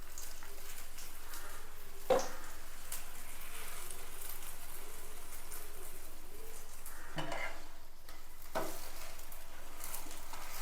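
Sweet paratha cooking in oil and ghee on a hot pan, a soft steady sizzle running throughout with a few sharp clinks of a spatula against the pan.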